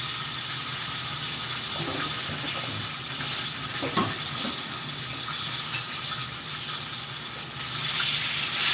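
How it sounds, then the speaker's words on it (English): Tap water runs steadily into a kitchen sink while dishes are washed during home cooking of smothered pork chops and green beans, a continuous bright hiss with a few faint clinks and no talk. "I'm just washing stuff up as I go"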